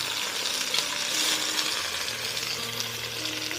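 Scallion whites frying in oil over low heat for a braised pork chop dish, a steady close crackling sizzle with occasional soft pops and no voices.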